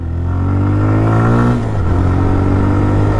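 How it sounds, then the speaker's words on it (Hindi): A TVS Raider 125 motorcycle accelerates hard, engine pitch climbing then dipping at a gear shift before pulling again, loud and close with no talk. "अब हम बाइक को भगाएंगे 50 तक और फिर देखेंगे कि क्या बाइक कितनी देर में रुकती है"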